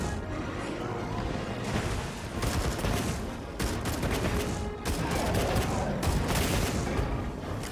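Rapid bursts of bowgun fire with elemental ammo in Monster Hunter Wilds, dense and loud, with repeated volleys that pause briefly near the middle before resuming.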